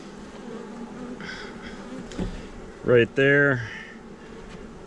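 Honeybees buzz steadily around an open beehive during a live inspection as the hive is reassembled, a continuous close insect drone with a person speaking briefly over it near the end.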